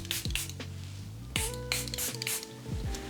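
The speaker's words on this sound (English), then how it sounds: "So I'm gonna spray myself" Makeup setting spray misted onto a face in a few quick hissing bursts, close and fairly quiet.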